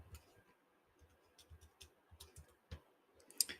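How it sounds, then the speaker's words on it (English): Calculator buttons being pressed while working out an inverse tangent, producing a series of faint, close, irregular clicks with short gaps between them and a sharper tap near the end. "So let's type that into the calculator."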